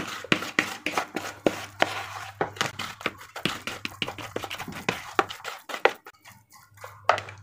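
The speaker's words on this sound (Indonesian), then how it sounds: "Aduk kembali ya bosku ya." Homemade carp fishing bait being stirred in a container: a brisk run of clattering taps and scrapes, close and fairly quiet, rhythmic with brief pauses.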